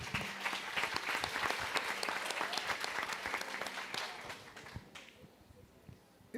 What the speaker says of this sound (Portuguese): vamos aplaudir Jesus por isso, irmão